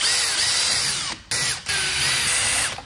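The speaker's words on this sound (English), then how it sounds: "Let me take these screws off," Power drill backing screws out of a 36 V lithium-ion battery module, a loud close whirring buzz that briefly stops twice and ends with a trailing wind-down.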